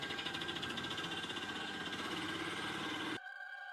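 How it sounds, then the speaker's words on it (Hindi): An old auto rickshaw engine makes a strange noise, a buzzy rattling putter with a steady tonal whine, running evenly before cutting off abruptly near the end and leaving a faint hum. "इंजन अजीब आवाज कर रहा था।"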